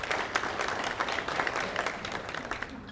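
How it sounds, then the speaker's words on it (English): A crowd applauds at a chamber of commerce breakfast, brisk dense clapping heard close and steady for a few seconds before easing slightly. "Let's give them a round of applause."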